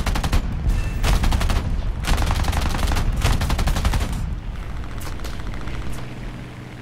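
In War Thunder, the machine guns of a CR.32 biplane fire in several long, rapid bursts over a low engine roar, loud and close, with a fainter burst near the end and no speech.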